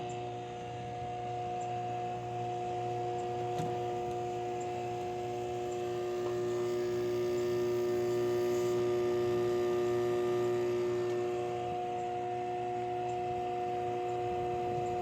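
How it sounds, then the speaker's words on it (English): The compressor of a 2016 LG 8,000 BTU portable air conditioner runs as a steady, even hum with a faint whine. It holds unchanged at moderate level throughout, with no talk. "The compressor is turned on."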